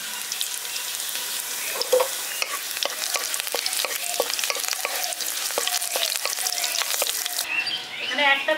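Chopped garlic and green chillies fry in hot oil with a close, crackling sizzle and frequent scraping stirs, dropping to quieter spitting near the end.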